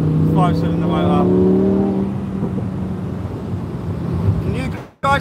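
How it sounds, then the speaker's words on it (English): A broken nitro car engine in a video game drones and revs with a steady tonal whine, then settles into a rougher rumble, loud and close, with people talking over it. "Can we do the broken nitro engine?"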